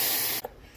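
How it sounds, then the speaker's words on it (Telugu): Sabudana frying in ghee gives a loud, close hiss and sizzle that cuts off abruptly after a moment, leaving faint background noise. "సాబ్దానా నెయ్యి వేసి ఎంచుతున్నాం"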